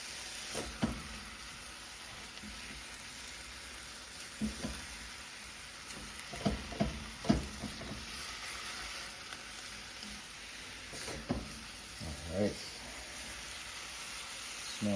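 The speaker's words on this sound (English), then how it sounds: "That'll sizzle some more." A soft, steady sizzle of vegetables and broccoli stir-frying in a pan with bacon and wine, with occasional clicks and scrapes of stirring throughout.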